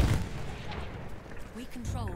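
Artillery and gunfire in the World War I shooter Battlefield 1, a dense continuous rumble of blasts throughout, loud and close, with a brief voice near the end.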